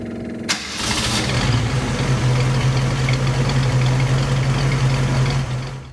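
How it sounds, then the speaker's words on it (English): A Sunbeam Tiger fitted with an ultra-capacitor cranks briefly and fires up, settling into a loud, steady idle with a low, even rumble that holds for several seconds before easing off at the end. "Let's start the car up and make sure that this works."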